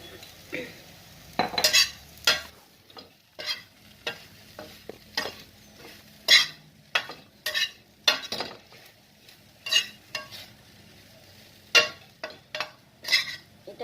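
Okra frying with red chilli powder is stirred in a pan, with repeated spatula scrapes and occasional utensil clinks over a gentle sizzle in an irregular rhythm, close up and without talking.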